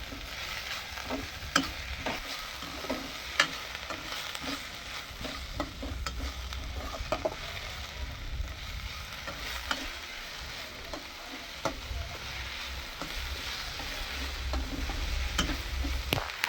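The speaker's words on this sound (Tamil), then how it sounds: "சேர்த்து இதையும் நம்ம வதக்கிடலாம்." Mint and coriander frying in a pan for salna, giving a continuous close sizzle broken by light scraping and occasional taps of a spatula as the leaves are stirred, no voices.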